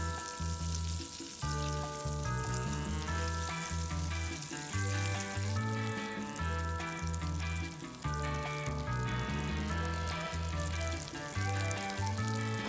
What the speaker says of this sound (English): Cook the patties for about 3 minutes on one side,